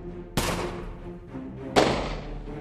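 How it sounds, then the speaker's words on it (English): Two loud, sharp gunshots in the Wooden Battle video game, about a second and a half apart, each with a sudden attack and a ringing decay over steady background game noise. "just walk up and gun him in the face"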